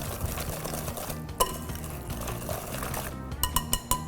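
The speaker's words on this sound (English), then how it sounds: "gonna give these a nice whisk so everything is evenly incorporated" A whisk works through wet pumpkin muffin ingredients with brown sugar in a bowl, making a rapid, rhythmic swishing and clicking against the sides, close and steady, with a few sharper taps near the end.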